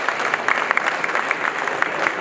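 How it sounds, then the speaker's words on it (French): An audience claps steadily for award winners at an installers' trophy ceremony, a dense, continuous wash of many hands that holds at an even level throughout. "on peut les applaudir encore"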